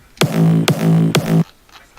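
Three punchy big room kick drum hits from an FL Studio project land in quick succession, each with a sharp click and a long, booming tonal tail cut off abruptly, then silence.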